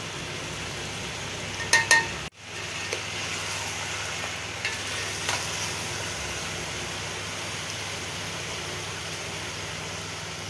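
Spices, including coarsely crushed whole coriander, fry for a biryani in a pan, giving a steady, even sizzle with a couple of metal clinks near the start, with no voices.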